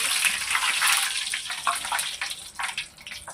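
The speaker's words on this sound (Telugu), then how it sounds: "తీసి ఇదిగోండి ఓ బొచ్చులో పోసేసుకుంటున్నాను." Hot oil from a fully heated kadai pours into a bowl in a sweet-shop kitchen making Mysore pak, a steady broad splashing gush with sizzling texture, fairly close and continuous, no voices.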